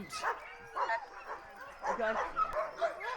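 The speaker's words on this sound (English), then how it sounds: "There are 3 breeds of husky here at the White Fang Kennels." Husky sled dogs at a winter kennel, including Malamutes and racing huskies, bark and yip in repeated bursts nearby while a person talks over them.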